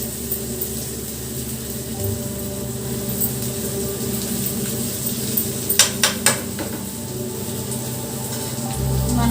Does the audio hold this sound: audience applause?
no